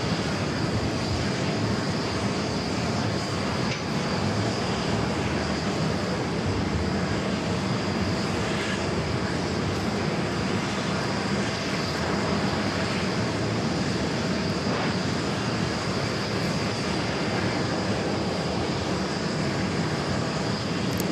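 A Boeing 757-200 jet departing JFK for Atlanta, its engines giving a steady, loud, broadband roar that holds unbroken throughout with no talk.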